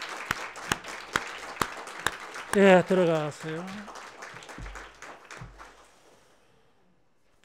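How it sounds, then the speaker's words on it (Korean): A few scattered handclaps ring out at a Sunday church service, sharp and evenly spaced rather than full applause. A voice speaks over them partway through, and the sound fades to near quiet. "우리 크게 박수로 격려하며"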